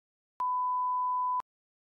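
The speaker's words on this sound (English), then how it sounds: "You may begin after the beep." A single clean electronic beep signals the start of a timed spoken response in an English speaking test. It is a steady pure tone lasting about one second, alone in silence.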